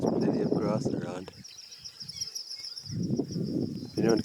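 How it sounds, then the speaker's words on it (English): Thin, high cisticola calls repeat steadily in the background of a grassland on a Singita Grumeti game drive, mostly under someone talking, with wind rumble in between. "Some cisticulars are calling out in these grasslands."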